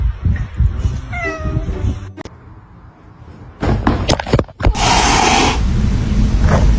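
A house cat meows close and loud with a rising, wavering cry near the start, followed by thumps and a long stretch of loud rushing noise.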